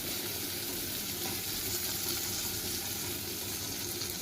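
Red and yellow bell peppers fry in a pan over a medium-low flame, giving a steady, even sizzling hiss that holds unbroken from start to finish, with no voices.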